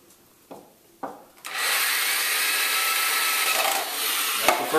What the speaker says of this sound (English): So now all we're going to do is screw the hooves onto the board.